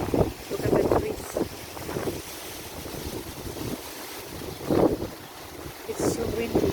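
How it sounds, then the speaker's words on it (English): Strong wind in Limassol, Cyprus buffets the microphone in a continuous low rumble with gusty swells, while a person talks over it at intervals. "It's so windy."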